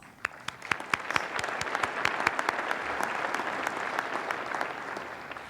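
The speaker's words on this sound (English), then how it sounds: "Please join me in giving them a round of applause." Audience applause at a city State of the City address as an advisory board is honored, a dense steady clapping that swells quickly and holds, full and fairly near, with sharp individual claps standing out.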